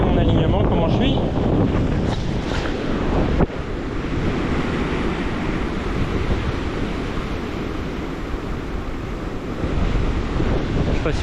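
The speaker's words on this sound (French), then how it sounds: "je suis plein de vent" Strong wind buffets the microphone on a surfcasting beach while surf rolls steadily in the background, a loud, continuous roar that never lets up.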